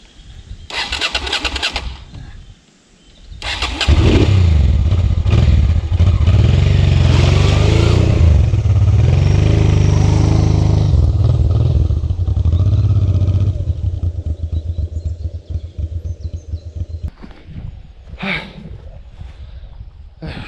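A muddy motorcycle on a trip through Spain cranks, catches and roars loudly for several seconds with rising revs, then drops back to a rough idle.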